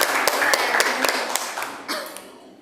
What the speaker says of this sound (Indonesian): Bagus, tepuk tangan buat teman kita.